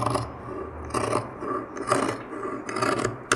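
Scissors cutting through blouse fabric while shaping a side panel, giving repeated raspy snips in short bursts about every second, close and fairly loud with no talk.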